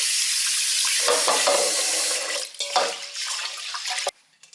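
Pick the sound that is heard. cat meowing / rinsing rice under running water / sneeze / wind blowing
rinsing rice under running water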